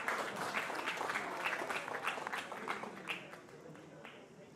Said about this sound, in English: So round of applause for the Steelers.